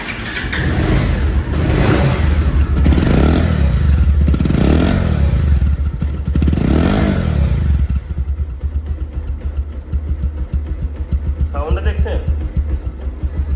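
A second-hand 2020/21 Bajaj Pulsar single-disc motorcycle runs nearby with a loud, throbbing engine note for about eight seconds, then drops to a lighter, rapid putter.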